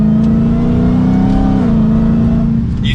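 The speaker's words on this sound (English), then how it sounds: "the supercharger whine is the coolest sounding noise that you could possibly have" A loud supercharged V8 with aftermarket exhaust drones steadily up close, a deep throaty hum with a constant high supercharger whine on top that barely changes pitch.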